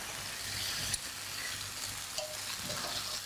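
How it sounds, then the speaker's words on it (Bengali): Hilsa curry with garlic paste sizzles softly in a pan as it is stirred, a low, even frying hiss with a few light scrapes and taps from the utensil, and no voices. "একটু নেড়ে দিই"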